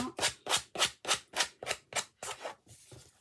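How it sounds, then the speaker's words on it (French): Quick rhythmic rasping strokes of a hand file on a scrapbook page, about ten evenly spaced scrapes at close range, fading slightly toward the end. "vous prenez votre lime, vous limez bien"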